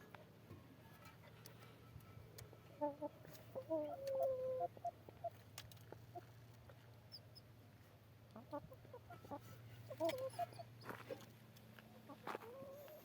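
Soft, scattered clucks from a few chickens, quiet and somewhat distant over a steady low hum, with short bursts around the middle and near the end.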